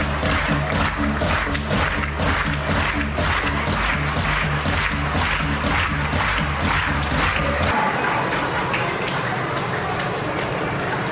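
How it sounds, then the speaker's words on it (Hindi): An audience applauds steadily at Prakash Higher Secondary School's annual function in Bhopal, a dense, continuous wash of clapping that fills the whole stretch, with a low, rumbling background layer that drops away partway through. "जोरदार तालियां हो जाए हमारी विशिष्ट अतिथि को"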